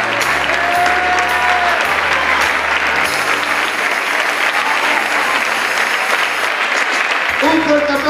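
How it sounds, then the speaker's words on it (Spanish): Loud, dense applause fills a charity gala for Payasos Sin Fronteras and carries on steadily for several seconds, while low music or voices run faintly beneath the crowd. "un fuerte aplauso."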